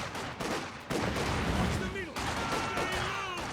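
Rifle fire from conscript infantry fighting Grenadiers in Company of Heroes 2 crackles in repeated bursts among other battle sounds, with a commentator talking over it.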